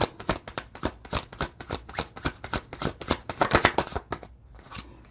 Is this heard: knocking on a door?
no